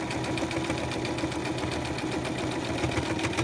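A sewing machine stitches along a zipper in a steady, fast mechanical patter, close and continuous with no talking.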